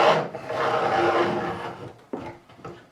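Old glue is scraped and rubbed out of the neck channel of a Warwick Corvette bass, a close, rough rasping stroke lasting over a second, then a few shorter scratchy passes, with no talking.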